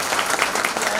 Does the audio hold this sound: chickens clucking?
no